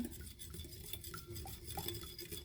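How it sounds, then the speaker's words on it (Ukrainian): Sour milk or kefir mixed with a half teaspoon each of sugar, salt and baking soda is stirred steadily in a bowl, a continuous scraping and clinking of utensil against the dish, close up with no talking. "І добре перемішую"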